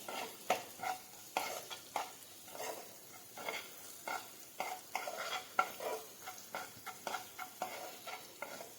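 Spices, red chili, coriander-cumin powder and salt are stirred into a pan for a leftover masala idli fry: steady scraping and stirring strokes in a regular rhythm, with faint sizzling underneath, close up and with no talking.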